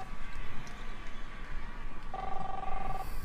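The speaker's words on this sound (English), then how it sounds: "Chris, answer the phone, please." A telephone rings in the video game The Awesome Adventures of Captain Spirit: one short electronic ring burst sits over a constant low game ambience, with faint speech in the background.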